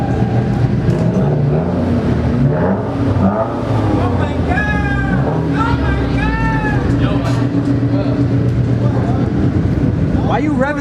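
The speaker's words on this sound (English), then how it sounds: "Why are you revving so much like a Honda?" Car engine revving loudly at a car meet, repeated throttle blips and rising roars close by, with constant shouting and chatter from the crowd over and between the revs.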